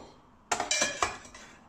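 Descaling fluid stirred in the water tank of a De'Longhi Dedica 680 coffee machine, giving a few close, sharp clinks and knocks in quick succession after a moment of quiet.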